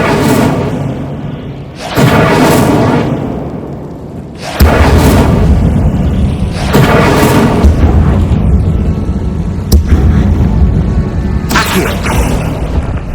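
Incendiary fire spells cast in Hogwarts Legacy, a tomb full of spiders, burst out as heavy booming whooshes, with sharp onsets near 2, 4.5, 10 and 11.5 seconds over a continuous loud rumble.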